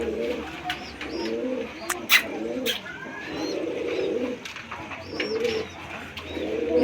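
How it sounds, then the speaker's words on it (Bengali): Pigeons cooing repeatedly in soft, rhythmic low phrases from fancy pigeons kept in cages, with occasional higher chirps and brief clicks mixed in, fairly close and steady throughout. "এই পায়রাগুলো দেখো"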